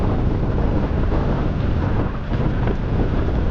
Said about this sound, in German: Ja, und der Wind, der kommt echt von quer ab.